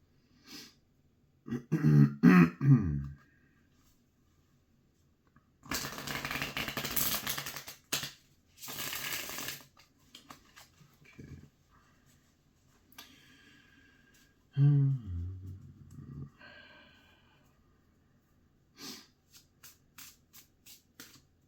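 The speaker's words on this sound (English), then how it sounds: "Let's have a good shuffle here." A deck of tarot cards being shuffled by hand in a quiet room, with two longer riffling bursts in the middle and shorter crisp card sounds before and after; a person speaks briefly between them.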